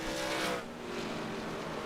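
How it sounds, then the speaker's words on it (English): A race car spins donuts on the back straightaway at Chicagoland during an MRL Contender Series event, its tires squealing in a loud, sustained screech over the roaring engine with no pause. "Colton Ward going to do donuts on the back straightaway."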